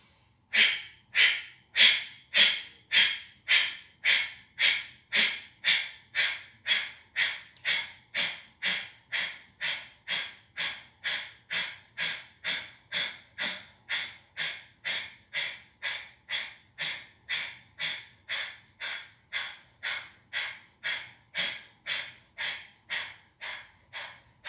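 Rapid, rhythmic forceful exhalations from a Sivananda yoga breathing exercise, about two per second, steady and close for the whole stretch with no talk.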